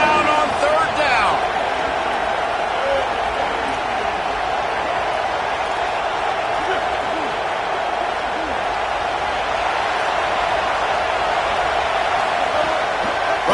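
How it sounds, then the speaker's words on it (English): A college football stadium crowd at an Ole Miss versus Gators game roars steadily and loudly on third down, a dense, sustained wall of cheering with a commentator talking over it. "This crowd unhinged, trying to make sure the Gators don't back down on third down."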